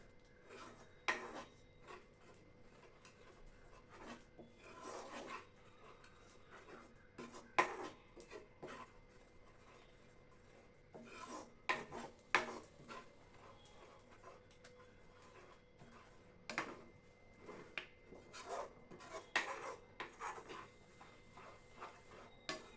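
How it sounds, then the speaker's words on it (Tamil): A ladle scrapes and stirs a Mysore pak mixture made without ghee in a pan, pressing out lumps in repeated rasping strokes that come in bursts with short pauses, close and moderately loud. "நம்ம கரண்டியால் கலந்து விட கட்டியெல்லாம் கரைஞ்சிடும்"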